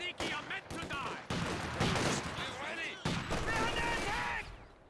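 Volley of PTRS anti-tank rifle shots in Company of Heroes 2, dense gunfire bursts crackling repeatedly across the clip amid battle noise, with a voice talking over it.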